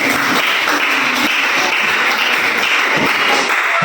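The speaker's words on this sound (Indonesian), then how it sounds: "tepuk tangan untuk Elis" Students in a classroom clap in a dense, continuous wash of applause, loud and close, holding steady without pause.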